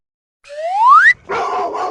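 A single Golden Retriever lets out a rising, whiny yelp followed by a short gruff bark, close and loud against otherwise silent surroundings.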